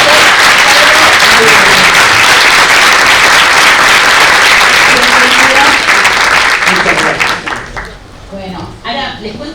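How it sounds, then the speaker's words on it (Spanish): A large audience at a medical talk on fungal infections gives loud, sustained applause that fades out near the end, with a voice starting to speak as it dies down. "Así que le damos un aplauso,"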